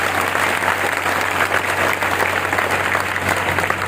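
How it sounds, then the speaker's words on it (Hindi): Sustained audience applause fills a recognition event in Katihar, Bihar, a dense, steady wash of clapping from a large crowd with no speech over it. "ये ताली आप लोगों के लिए दोबारा बजाओ"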